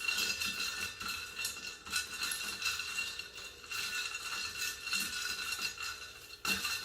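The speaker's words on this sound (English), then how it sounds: "And you want to mix it to get it really nice and cold." Cold brew iced coffee stirred with ice: continuous clinking and rattling of ice cubes against a glass, with a spoon tapping in a steady rhythm, close and fairly quiet.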